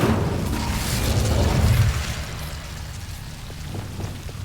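In Hogwarts Legacy, an Incendio fire spell goes off as a loud whooshing burst that swells over the first two seconds, then fades into a crackling, rumbling tail.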